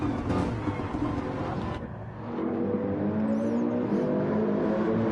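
A Toyota Supra race car engine at speed in a four-hour endurance race at La Sarthe, a steady, loud drone that dips briefly and then picks back up to a sustained high-revving whine.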